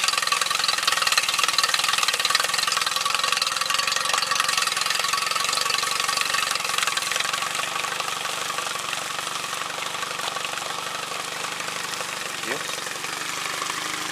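Outboard motor on a 1999 Aqua Pro 12-foot RIB yacht tender running after sitting about two weeks, a steady close hum with water flow, alone and fading slightly near the end.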